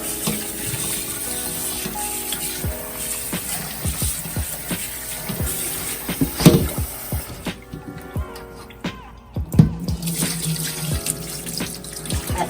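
Tap water runs steadily into a sink while raw chicken is washed for Jamaican brown stew chicken, with splashing, handling clatter and a brief lull midway, close and continuous without talk.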